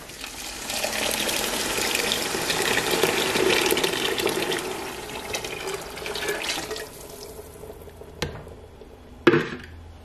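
Thick salsa for Jalisco-style carne en su jugo poured from a container over browned meat and bacon in a pot, a steady liquid gush for several seconds that tapers off, followed by two brief knocks.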